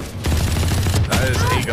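Gunfire in the video game Valorant comes as a loud, close, rapid automatic burst that pauses briefly and resumes, with a short voice stepping in toward the end.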